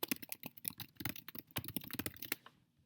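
Rapid, uneven keystrokes on a computer keyboard while typing a double-spaced essay in a Google Doc, a close, steady run of sharp clicks that thins out near the end, with no talking.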